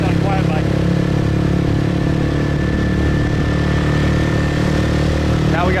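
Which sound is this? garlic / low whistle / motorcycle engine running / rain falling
motorcycle engine running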